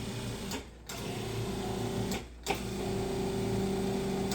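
A food processor pulses baking powder into dry ingredients in a kitchen, whirring steadily in three bursts separated by two short pauses, close and fairly quiet.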